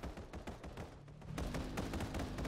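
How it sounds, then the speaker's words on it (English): Gunfire in a Final Fantasy VII First Soldier tournament match: rapid, evenly spaced shots crack in a quick automatic string, fairly faint, with the pace and density rising in the second half. "Whoever it was is shooting back at Soja as well"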